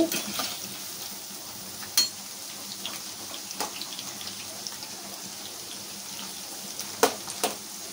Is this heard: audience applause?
no